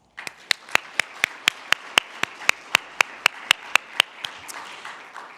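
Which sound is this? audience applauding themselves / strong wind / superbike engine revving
audience applauding themselves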